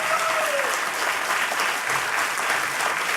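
Steady, full applause from a studio audience at Zoomer Hall for the performers, a continuous crowd of clapping hands with no voices over it.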